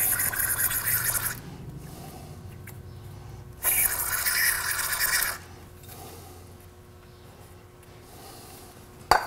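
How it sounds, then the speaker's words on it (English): Brake cleaner sprayed onto a cylinder head in a workshop, two loud sustained hissing bursts of a few seconds each separated by a quieter gap, close to the listener. "That's just brake cleaner, isn't it?"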